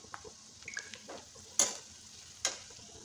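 Onions and green chillies fry gently with roasted cumin in a pan for onion kachri sabzi, with a soft sizzle and several sharp spatula clicks and scrapes from stirring, and no talk.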